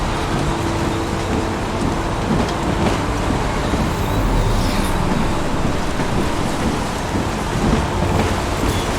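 Heavy rain pours steadily in the video game Heavy Rain, a dense loud wash of rainfall with low thunder rumbling underneath throughout, and no voices.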